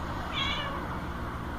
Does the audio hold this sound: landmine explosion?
no